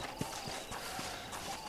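Horse hooves clip-clop steadily on the ground in the Red Dead Redemption video game, a faint, evenly spaced walking rhythm heard alone.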